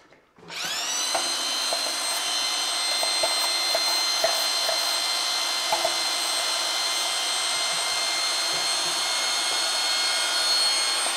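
Drywall mud being mixed in a bucket with a power drill and paddle, a steady high motor whine that starts abruptly and runs continuously with faint knocks and scraping, close and loud.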